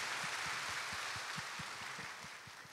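A church congregation during a Sunday morning worship service gives a soft rounded applause, a steady faint wash of clapping with low rhythmic thumps pulsing beneath it and slowly fading.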